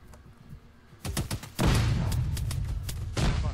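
Grenade blasts and gunfire in an Arma 3 squad battle: a sharp burst of cracks gives way to a loud, sustained rumbling boom that holds strong to the end, with no clear talk over it.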